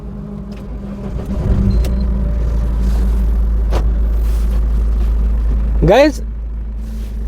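Mahindra Scorpio mHawk 2200cc diesel engine, about 195,000 km on the clock, cranking briefly and settling into a steady low idle rumble, with someone talking over it throughout.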